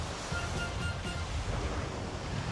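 Steady surf washing ashore at Gulfside City Park beach on Sanibel Island, a continuous broad rushing roar of waves with a breezy hiss and no voices.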